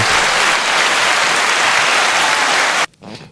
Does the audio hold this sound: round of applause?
yes